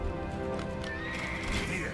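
Horses whinny and neigh amid clip-clop hooves and battle din in the video game Age of Empires II, dense and continuous game audio.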